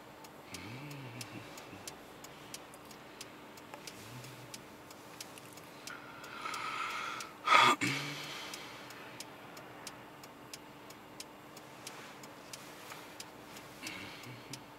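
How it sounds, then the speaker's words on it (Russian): A car's turn signal ticks in a steady, even rhythm inside the cabin during a driving lesson, over a low engine hum, with a brief louder rush of noise midway. "Поворотник включен, первая включена."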